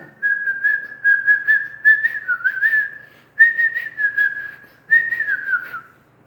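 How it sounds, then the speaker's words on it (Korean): A person whistles a sustained, wavering tone in three long phrases with short breaks between them, clear and close, with no talking over it. "휘파람 불어야 되는데 휘파람을 못 불어요"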